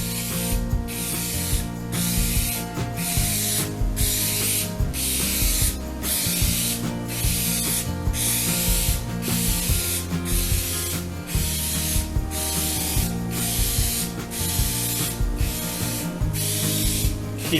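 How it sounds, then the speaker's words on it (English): A spray paint can hisses in long, even bursts over a 3D topographic map, with short pauses between passes and the can rattling faintly. The sound is close and regular. "So let's go ahead and spray it. Always overspray. Never start and stop on the same piece."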